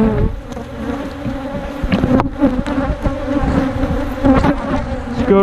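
Honey bees swarm around an opened hive during maintenance, a dense, continuous buzz close by with individual insects droning past, loud and steady without speech.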